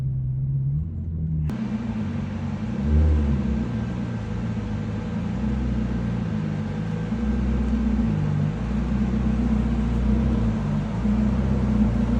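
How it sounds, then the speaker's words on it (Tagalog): A Ferrari rolls along with a low, steady engine rumble and road drone heard from inside the car, starting abruptly and continuing evenly without revving or other sounds. "That's how easy to ride the Ferrari."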